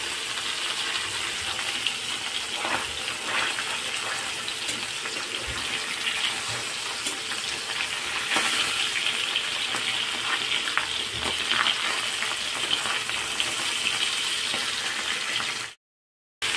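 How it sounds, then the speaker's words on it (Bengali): Fish, including red koi and bhola, fry in mustard oil in a wok with a steady, close crackling sizzle broken by occasional stirring scrapes, and it continues without speech until a sudden cutoff near the end. "কড়াইয়ের মধ্যে দিয়ে মাছগুলোকে আমি ভালো করে উল্টে পাল্টে ভেজে নেবো।"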